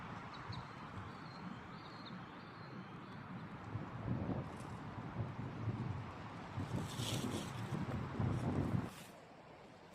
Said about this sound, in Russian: В последние дни ветра дуют в полную силу, и даже высокие деревья не спасают низину от буйства стихии.